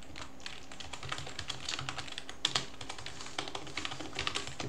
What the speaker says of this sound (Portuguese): Deixa eu já ajustar aqui meu teclado